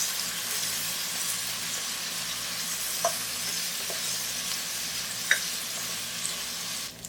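Ginger garlic paste fries with mutton in oil for a pressure-cooker mutton biryani, giving a steady, even sizzle close by, with a few faint utensil taps over the hiss.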